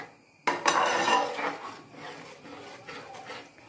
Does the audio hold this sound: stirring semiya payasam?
yes